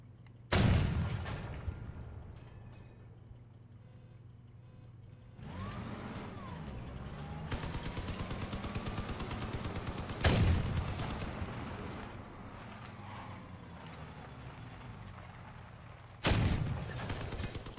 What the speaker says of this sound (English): I have to turn the vehicle to fire with the cannon.